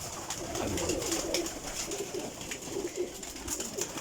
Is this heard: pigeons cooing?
yes